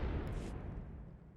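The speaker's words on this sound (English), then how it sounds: "I'm gonna work the cannons now." Heavy cannon fire from a starship's guns in Star Wars: The Old Republic, a single deep boom rolling into a long low rumble that fades slowly over the clip.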